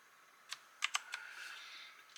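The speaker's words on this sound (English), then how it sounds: "So let's go ahead, we can just type random things." Several quiet clicks of keys on an Alienware 510K mechanical computer keyboard, a few spaced strokes including a quick double tap, faint against a low background hiss with no talking.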